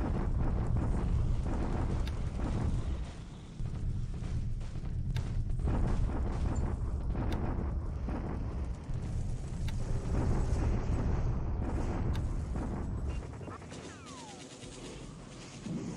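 Artillery bombardments in the WWII naval strategy game War in the Pacific: a dense, continuous roll of heavy booms and crackling blasts over a deep rumble, loud and sustained throughout.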